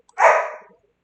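A single sharp dog bark, loud and close, heard alone with a short tail of fading sound and no talk.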